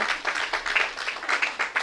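A council meeting audience applauds and cheers in a short burst of steady clapping that runs for about two seconds and is moderately loud in an indoor room.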